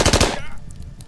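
Gunfire in the turn-based tactics game Achtung Cthulhu Tactics: a short, loud burst of rapid shots at the start, then a ringing tail that decays over a second.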